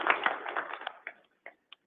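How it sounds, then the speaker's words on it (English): Scattered hand claps at a board of directors meeting greet newly welcomed staff, a short, sparse round that quickly thins out to a few final isolated claps. "Let's give them a round of applause."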